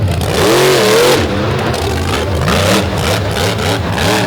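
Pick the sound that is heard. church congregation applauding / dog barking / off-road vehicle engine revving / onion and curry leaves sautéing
off-road vehicle engine revving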